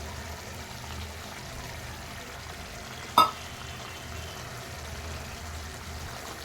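Chicken curry bubbling and sizzling in oil as drumsticks are dropped into the pan, a steady soft frying hiss broken by one sharp clunk midway.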